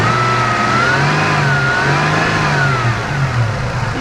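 A Toyota Tacoma engine with a worn, non-electric fan clutch revs steadily above idle, a loud, continuous mid-pitched drone that rises and falls gently throughout, close by with no voices.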